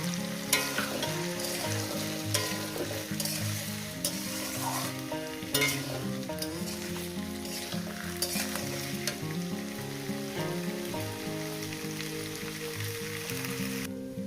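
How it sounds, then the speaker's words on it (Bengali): Chopped onion frying in a pan for a rohu fish curry with taro stolons, a steady dense sizzle with occasional stirring scrapes, close and continuous throughout with no talking. "দিয়ে দেবো পেঁয়াজ কুচোটা দিয়ে চার পাঁচ মিনিট ধরে ভাজবো"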